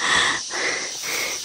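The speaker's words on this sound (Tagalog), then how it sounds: "Hinihingal po ako." Close, heavy breathing comes from someone out of breath after a climb through a coconut plantation, with several quick wheezy breaths spaced across a short moment.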